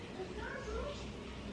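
Pet cat meowing at home, a couple of soft, short rising mews under a woman's nearby speech and room noise.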